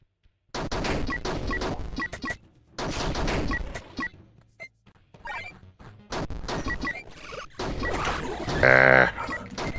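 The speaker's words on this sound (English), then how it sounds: "Unless I fire the 4 reserve shots that I have there." Gunshots in the video game Heavy Bullets, loud sharp shots and crashing impacts packed into dense bursts separated by short quiet gaps.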